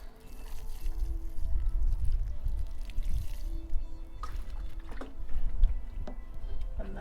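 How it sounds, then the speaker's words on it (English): Water is poured into a container filled with compost and kitchen scraps while potting on peas and beans, a soft close trickle and gurgle with a few light splashes and clunks, fairly quiet throughout. "Give it a little bit of water before you start."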